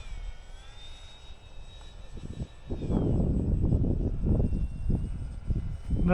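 Motor of a Sword T770 model airplane in flight, first a thin high whine in the distance, then a louder, broader buzzing roar as it passes closer, steady and continuous.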